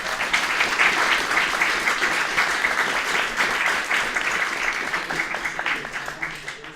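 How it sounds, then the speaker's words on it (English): Another round of applause from an audience after a talk on liquid democracy and smarter cities, sustained and fairly close, thinning into scattered claps near the end, with a voice briefly over it. "Let's have another round of applause."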